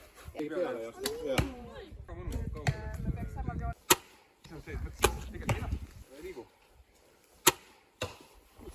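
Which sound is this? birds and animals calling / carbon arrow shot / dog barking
carbon arrow shot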